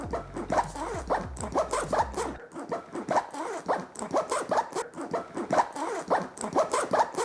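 A zipper is dragged along a Lowepro ProTactic BP 450 AW II camera backpack, a rapid run of scratchy rasping strokes that keeps going steadily and sounds close, with a low thump early on and no speech.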